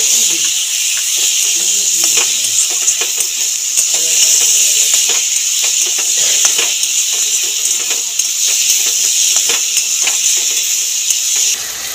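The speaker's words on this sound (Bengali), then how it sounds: "নুন হলুদ মাখা চিংড়ি মাছ দিয়ে দিলাম, চিংড়ি মাছটাকেও ভেজে নেব।" Prawns coated in salt and turmeric sizzle in a pan with fried onion and garlic, a loud continuous hiss broken by frequent scraping and clicking stirs, with no talking.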